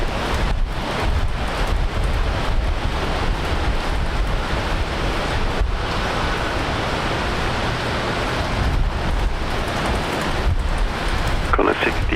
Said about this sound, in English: You can all hear that rain.